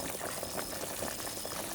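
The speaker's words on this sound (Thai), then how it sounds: "ก็เอาละครับ เดือดได้ดีครับ" A pot of Thai clear soup with winter melon and pork belly bubbles at a steady rolling boil, a continuous dense hiss of bubbling heard close up with no voices.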